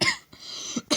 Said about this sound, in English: but erupted into a brief fit of coughing.